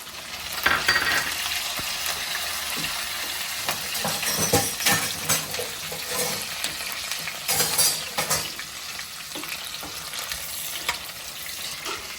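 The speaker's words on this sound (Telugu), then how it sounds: "ఇది ఒక 1 మినిట్ ఫ్రై అవ్వనిద్దామండి" Chili and curry leaves sizzle and crackle in hot oil in a pan for a Punjabi-style rajma curry, a steady close frying hiss broken by scattered stirring clatters, with no talking.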